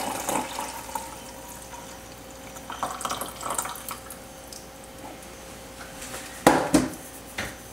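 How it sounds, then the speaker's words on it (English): Pressed coffee poured into a Magic Bullet blender cup, a soft, close trickle of liquid with a couple of brief clinks and splashes near the end. "pour it into the Magic Bullet Cup"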